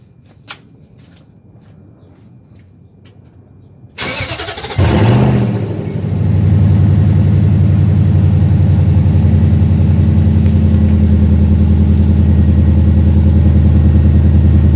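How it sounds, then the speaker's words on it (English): A 2004 Nissan Armada with a suspension fault being repaired: a few faint clicks in near silence, then the engine cranks and catches with a loud roar and settles into a steady, close idle. "I'm going to go ahead and turn the vehicle on just to see if it has to do with that."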